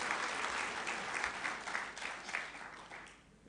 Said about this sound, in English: A round of applause one more time.